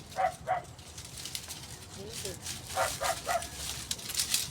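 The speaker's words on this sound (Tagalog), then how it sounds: "Nagtatahol yung aso." A dog barks a few times at a distance, two short pairs of barks, amid background noise and nearby voices.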